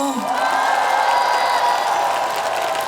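A large festival crowd claps and cheers steadily at a closing-ceremony stage performance by a trot singer, a dense continuous roar of applause with scattered whoops and shouting voices mixed throughout.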